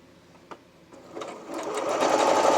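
A sewing machine stitches fabric for a romper, starting with a few faint clicks and building into a steady, close whirring run that grows louder toward the end.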